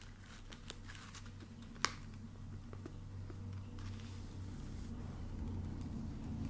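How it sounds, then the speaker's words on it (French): A low, steady rumble of two big trucks passing at a distance, with faint rustling and a single sharp click along the way. "on attend que le gros camion passe."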